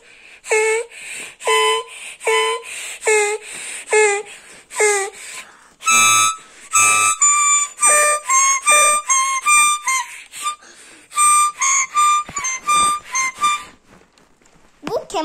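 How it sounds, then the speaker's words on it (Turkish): A child saws squeaky, whistly notes on a toy violin in short, separate bursts, each a bright wavering tone with brief pauses between, close and fairly loud. "Bu keman sesi değil mi Erdem?"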